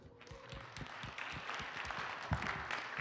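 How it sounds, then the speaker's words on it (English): Audience applause at an entrepreneurial pitch meeting: continuous, moderately dense clapping from a roomful of people, heard at a distance and fairly soft, with a few sharper claps and no speech over it. "So big round of applause for her."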